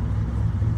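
A car passes outside with a dense, steady low rumble of engine and road noise that fills the short moment, loud and close, with no voices over it.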